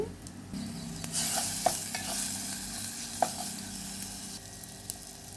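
Garlic, ginger and onion fry in hot oil with a loud continuous sizzle, punctuated by a few sharp stirring knocks against the pan.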